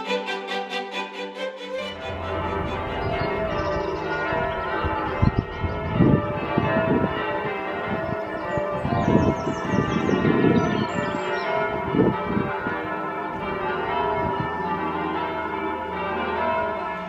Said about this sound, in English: Music from the church bells